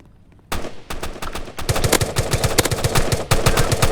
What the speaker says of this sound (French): Je prends la mitraillette là